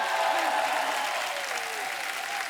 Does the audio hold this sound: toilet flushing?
no